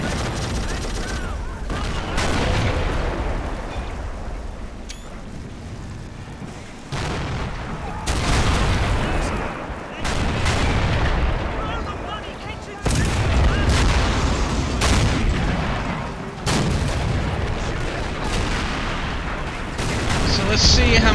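Artillery and gunfire in the Men of War Assault Squad 2 tank battle, heavy booms and crackling volleys that repeat every few seconds over a steady rumble of combat.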